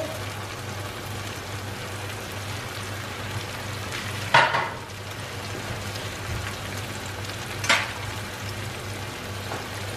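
Keema mince fries on a hot tawa with a soft, steady sizzle and crackle, two brief louder bursts of spattering breaking through, no voices.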